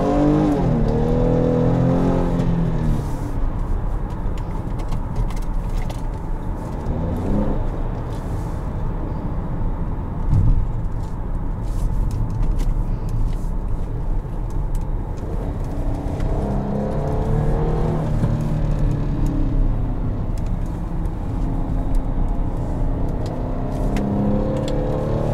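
A 2017 GMC Acadia All Terrain drives and accelerates, its engine droning steadily from inside the cabin with rising pitch sweeps as it speeds up, continuous with no talk.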